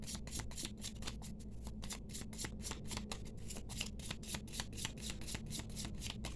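Tarot cards handled and laid out on a table for a reading, giving a steady run of crisp, close snapping and flicking sounds over a low constant hum, with no talking.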